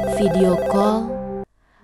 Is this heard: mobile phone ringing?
yes